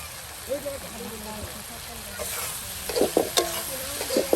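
Dried fish frying and being stirred into a cooked spice paste in a pan, with soft sizzling and scraping that grows louder toward the end. Someone talks over it.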